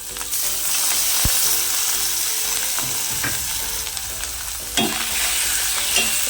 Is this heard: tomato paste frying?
yes